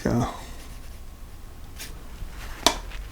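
A pen scribbles loose marks on paper while a still life is sketched for a watercolor painting, producing a few short scratchy strokes under a person's talking.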